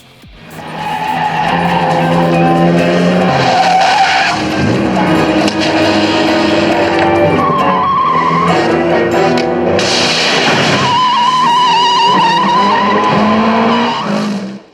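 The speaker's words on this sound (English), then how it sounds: "You've got a pretty decent car chase." A car chase from a Roger Moore James Bond film, with loud, sustained tire squeals and skidding over roaring engines, the screeching rising and falling in pitch as the cars slide through turns, with no one talking.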